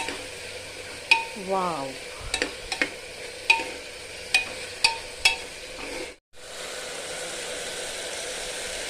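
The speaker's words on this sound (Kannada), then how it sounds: "ಕಟ್ ಮಾಡಿದ್ದು ಒಂದೊಂದೇ ಐಟಮ್ ಹಾಕಿ ಫ್ರೈ ಮಾಡ್ತೇನೆ" Chopped items for jackfruit biryani fry in oil in a pan, giving a steady sizzle broken by sharp clinks of stirring. A voice briefly speaks over it, and a short silent gap comes before the hiss resumes.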